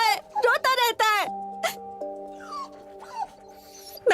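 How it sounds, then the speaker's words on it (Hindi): A dog whimpers and yips in high, wavering cries, with several quick yelps followed by drawn-out whining tones that rise and fall, close and fairly loud. "ये बेचारा सारी रात भौंकता रहता है, रोता रहता है।"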